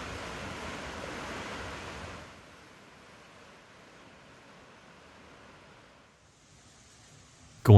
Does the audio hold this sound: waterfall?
yes